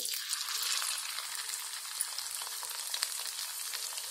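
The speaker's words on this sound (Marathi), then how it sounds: "पण दोन दोनच फ्राय करून घेऊया" Prawns fry two at a time in hot oil, a soft but steady sizzle with small crackles, heard alone and fairly quiet.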